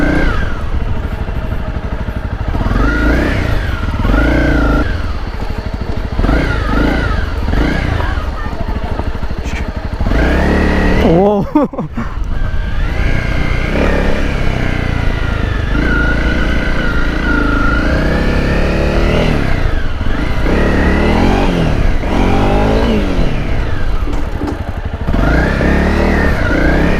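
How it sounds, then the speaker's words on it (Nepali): An adventure touring motorcycle built for off-road rally riding revs repeatedly, its engine rising and falling in pitch throughout, with someone talking over it. "एडभेन्चर टुर बाइक हो, लङ राइडको लागि चाहिँ अति नै आनन्द आउँछ यस्तो बाइकमा"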